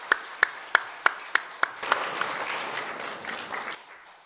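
A church congregation at a Sunday service claps in encouragement. It opens with a handful of crisp, evenly spaced claps, then swells into softer, sustained applause from the whole room.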